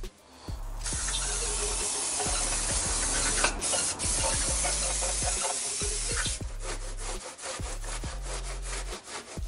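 Degreaser is sprayed onto the cylinder head of a Peugeot 206 TU engine in a long, steady hiss, followed by a series of rhythmic rubbing and scraping strokes close by.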